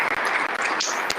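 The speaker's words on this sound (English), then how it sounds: "They're applauding right now at the floor." Applause breaks out on the El Salvador legislative floor after the vote making Bitcoin legal tender, a dense, continuous patter of many hands clapping.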